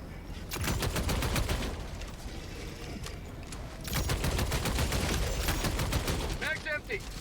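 Sentry turret firing in the Helldivers 2 video game, rapid bursts of automatic gunfire with dense repeated shots, moderately loud among other battle noise and brief effects.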